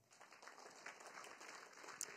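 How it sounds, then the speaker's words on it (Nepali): Church congregation claps for the Lord during a sermon, a faint, dense patter of many hands applauding steadily for a couple of seconds. "ताली बजाउनुहोस् न प्रभुलाई"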